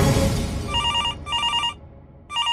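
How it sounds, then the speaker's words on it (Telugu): A telephone rings with repeated electronic trilling bursts, three rings separated by short pauses, loud and close over a low background murmur in a medicine shop. "ఒరే దత్తి, ఆ ఫోన్ తీ."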